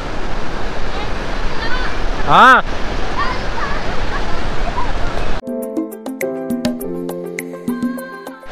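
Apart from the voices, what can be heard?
waterfall water flowing under a small bridge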